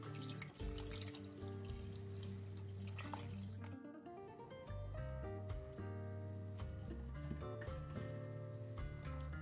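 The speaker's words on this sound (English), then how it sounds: "Pour the brine over the watermelon so that it's fully covered." Brine poured into a saucepan over watermelon pieces, a steady splashing, trickling stream that runs close and continuous beneath background music.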